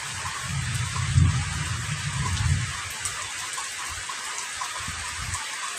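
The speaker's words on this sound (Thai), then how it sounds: "น้ำพุ่งฝนตกแล้วนะคะ" Steady heavy rain pours down during a downpour in Lamphun, Thailand, a dense hiss throughout with a low rumble in the first half, close and without voices.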